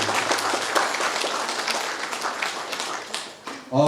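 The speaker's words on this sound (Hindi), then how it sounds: "धन्यवाद द्वारा ताली।" A crowd applauds steadily at a church blessing in Lalpania Parish, Bokaro, India, dense clapping filling the clip before tapering off near the end.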